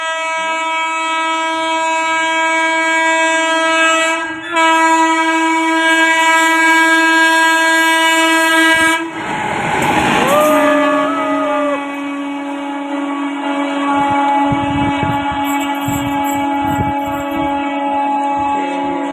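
An electric train locomotive on a trial run between Darbhanga and Forbesganj sounds a long, loud, steady horn blast that breaks briefly, then passes with rumbling wheels and a shifting horn tone, close and dominant throughout.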